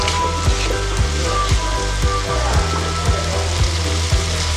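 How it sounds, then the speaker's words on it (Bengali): Prawns and potatoes cook in a thick masala with a loud, close, crackling sizzle, and steady rhythmic stirring thuds repeat about twice a second throughout, with no speech. "মশলার সঙ্গে কিন্তু আলু আর চিংড়ি মাছটা আমি সুন্দরভাবে কষিয়ে নেব"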